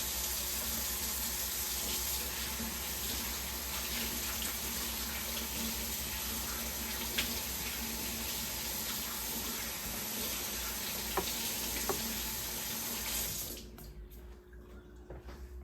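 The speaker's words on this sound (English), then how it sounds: "So to get started, we're going to wash our hands first. Use soap." Tap water runs steadily into a sink while hands are washed with soap, a continuous near splashing hiss that cuts off abruptly near the end, leaving a quiet room.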